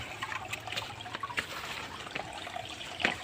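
Spring water seeps from tree roots in the jungle and trickles continuously, with soft close drips and small splashes over a steady liquid wash.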